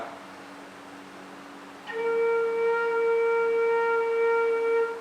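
After a soft breathy lead-in, a Thai bamboo flute (khlui phiang o) sounds one steady low C with all holes covered, holding evenly for about three seconds, alone and close.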